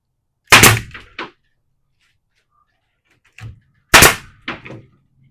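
A pneumatic nail gun driven by a Stanley compressor fires two sharp, loud, close bangs a few seconds apart, each followed by a brief rattle and clack of the tool, with near silence between.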